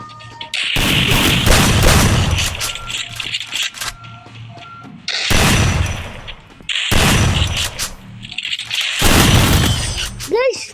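Shotgun blasts in the Free Fire Max video game, a 1v1 match, fire in several loud bursts separated by short gaps, each with a sharp crack and a rolling tail, with game effects layered over them.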